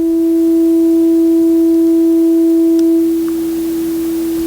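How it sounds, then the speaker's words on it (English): A steady synthesized sine-wave tone from the Vivid Haskell synth sustains with faint overtones, holding loud and pure for about three seconds before dropping slightly quieter, with no talking. "It's just a sine wave with a volume. And now if we set volume of, we'll double it. It's going to get louder."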